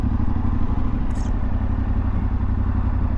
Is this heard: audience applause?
no